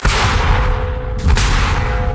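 A heavy 240 mm mortar fires with a deep, booming blast about midway through, set against loud, constant outdoor rumble. No one speaks.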